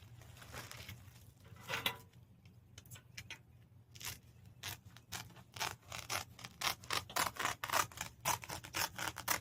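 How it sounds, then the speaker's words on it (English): Material is cut in half while preparing a seed snail planting setup: close, quiet crisp snips and rustling, sparse at first and then becoming a rapid, steady run of cuts toward the end, with no talking. "So I'm going to cut this in half."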